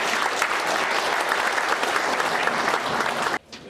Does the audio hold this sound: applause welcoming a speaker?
yes